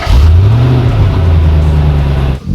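A Nissan Armada Platinum engine revs hard while racing a Nissan 350Z, a loud, close, steady roar with a rising and falling pitch under acceleration before dropping off sharply near the end.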